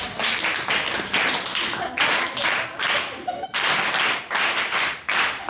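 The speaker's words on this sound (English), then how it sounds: "let's give her a warm and loud round of applause" An audience at a health and mental health luncheon gives a loud round of applause, bursts of many hands clapping in rhythmic surges, close and energetic.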